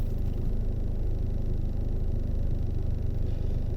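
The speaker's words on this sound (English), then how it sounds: "I got the air on and the car is surging" A car engine surges with the air conditioning running, a low steady rumble that swells and eases slightly, close and continuous with no talk.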